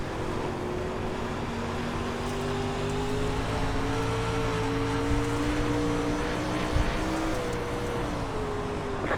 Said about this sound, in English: Now I'm just getting on throttle too hard.